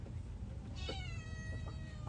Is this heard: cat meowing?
yes